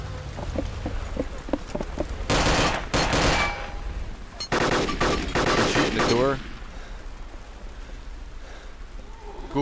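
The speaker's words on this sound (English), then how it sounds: "there is shots coming in everywhere" Heavy gunfire from the video game DayZ, with two long stretches of dense, rapid automatic shots in close sequence. Scattered pops come before and after, and brief talk can be heard.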